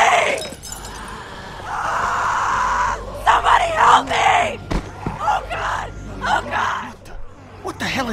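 A girl screams in The Walking Dead video game, loud, strained cries rising and breaking over several seconds amid crashes and shattering, with voices talking around them.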